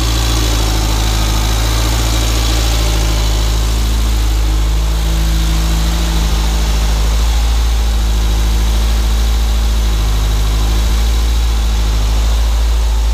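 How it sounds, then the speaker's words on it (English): A Renault 5 GT Turbo engine idling slightly high with its idle valve open, a loud, steady, smooth hum with a constant low drone and faint vibration, close by and uninterrupted, with no talking. "the idle valve's open at the minute, so it's taking over a bit high, but it's running a lot sweeter"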